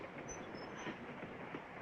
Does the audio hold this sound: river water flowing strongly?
no